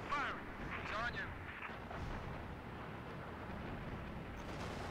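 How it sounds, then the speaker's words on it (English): Missiles launch in the Halo Reach space battle, rumbling bursts of fire and explosions sounding under game noise and voices. "Oops, I shot missiles at the base."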